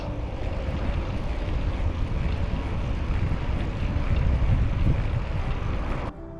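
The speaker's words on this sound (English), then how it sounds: "Boy, it must be windy down here." Wind buffeting and rushing past the microphone on a bicycle ride near Malton, a loud steady roar dominating throughout and dropping away abruptly at the very end.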